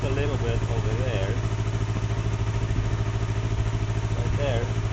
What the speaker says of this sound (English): So if I press the button, it revs the engine.